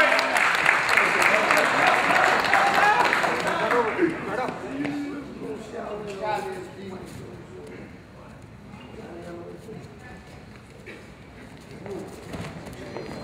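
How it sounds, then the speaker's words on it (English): Audience applause at a live event, strong at first then thinning out after a few seconds, with voices talking over the fading claps. "Give him an applause for the sportsmanship."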